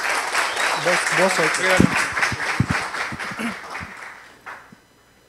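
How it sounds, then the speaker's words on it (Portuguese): An audience at a talk on clean code gives a burst of applause for the speaker Vinícius, with steady clapping that carries through most of the clip before fading out. A voice speaks briefly over the clapping. "Uma salva de palmas para o Vinícius."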